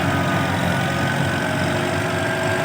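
A Kubota M70 tractor engine drones steadily and loudly at close range while it pushes soft soil at the edge of a pond, with no talking.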